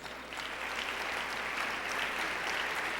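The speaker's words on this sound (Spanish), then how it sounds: "quiero pedirles un aplauso cariñoso" Sustained applause from an audience opening a presentation, a dense even patter of many hands clapping throughout.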